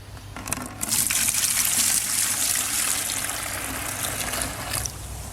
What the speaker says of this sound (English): I'll pour about a litre or so into here